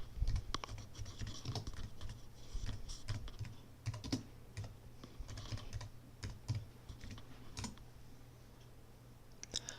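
Quiet typing on a Mac computer keyboard while entering a Homebrew terminal command, a run of soft irregular key clicks with brief pauses, close and without talk.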